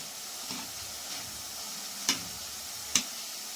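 Boondi for laddu fries in hot oil with a steady, soft sizzle, broken by two sharp ticks of a metal ladle.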